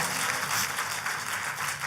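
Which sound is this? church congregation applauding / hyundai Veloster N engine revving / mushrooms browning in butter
church congregation applauding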